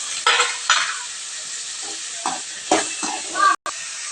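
Sliced onions and tomatoes for thakkali chutney sizzle in a hot pan while a spoon stirs and scrapes them in several short strokes, close and clear.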